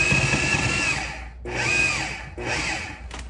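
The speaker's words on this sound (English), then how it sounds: "I'm going to chop it up a little bit just to get the food processor going." A food processor pulses butter, flour, brown sugar and cinnamon for a streusel topping, whirring in three loud bursts separated by brief pauses, close up with no talking.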